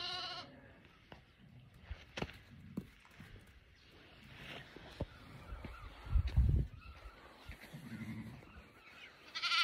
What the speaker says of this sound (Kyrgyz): Мындай козулар туулуп атат.